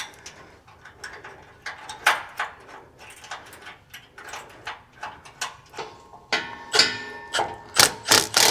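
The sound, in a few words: bolting up Ford F150 AWE exhaust band clamp with 10 millimeter bolts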